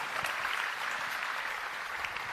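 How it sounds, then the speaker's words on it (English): An audience at a conference claps for a speaker in a brief, even round of applause, moderately distant and fairly quiet, with no talk over it. "Everybody give a round of applause to Sean."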